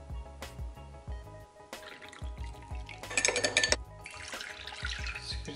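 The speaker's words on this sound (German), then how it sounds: "Jetzt gebe ich das Wasser hinzu." Water goes into a kitchen bowl of sesame ring (simit) dough ingredients, a short splashing pour after scattered clinks and knocks of bowls and utensils, fairly quiet and close, with no talking.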